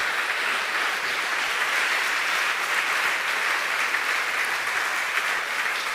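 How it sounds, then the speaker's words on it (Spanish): A church congregation claps together in a steady, dense wash of applause that holds evenly for the full stretch without a break, with no voices rising above it. "Dele palmas al Señor"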